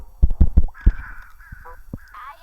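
Several harsh, loud caws in quick succession, followed by a couple of lower, sparser calls from crows nearby.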